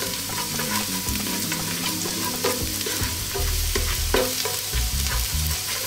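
Garlic hits hot cooking oil in a pan for Filipino chicken pochero, bringing a loud dense sizzle with stirring scrapes and a low rumbling underneath, no voices.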